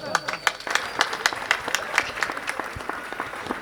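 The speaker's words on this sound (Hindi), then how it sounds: "आओ भाई सांड, चलिए जोरदार ताली।" An audience claps to welcome a poet on stage, a brisk burst of applause with distinct individual claps close by.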